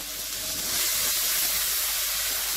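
Vinegar hitting a hot pan of garlic and chilli, a loud continuous steamy hiss and sizzle, close and unbroken from start to finish with no voices.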